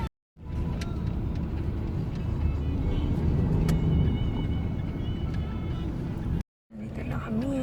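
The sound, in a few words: road traffic on EDSA heard from inside a vehicle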